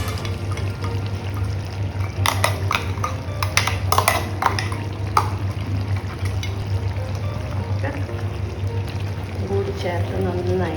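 Roasted ground coconut being stirred into chicken curry in a pot makes scraping and clinking spoon sounds over a steady low hum, with someone talking through it.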